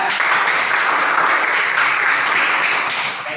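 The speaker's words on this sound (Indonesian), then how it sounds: "Kembali aplaus kepada Cinta ya" Steady, dense clapping from a classroom audience applauding a student, holding loud and even for about three seconds before easing off slightly at the end, with no speech over it.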